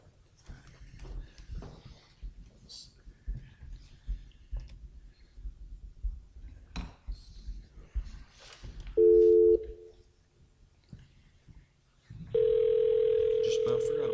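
Phone tones sound during a school board meeting while a participant is rung back: two flat steady tones, one short and one longer, come after quiet room sounds and brief voices.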